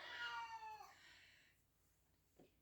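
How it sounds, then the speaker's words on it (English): A cat lets out one clear, drawn-out meow up close, then the room goes quiet before a short, faint second cry near the end. "Yes, you're hearing a cat meow in the background."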